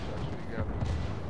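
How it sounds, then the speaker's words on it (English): Mortar explosions in a ranked online shooter game, dull low booms rumbling continuously under a dense mix of game noise and voices over about a second. "that's a good mortar"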